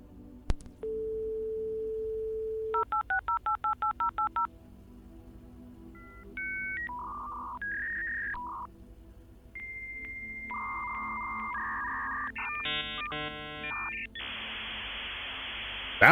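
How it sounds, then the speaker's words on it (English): A dial-up modem connection sequence plays alone: a dial tone, rapid touch-tone dialing, then shifting warbling tones, screeches and a final burst of hissing noise, clear and moderately loud. "that dial-up sound,"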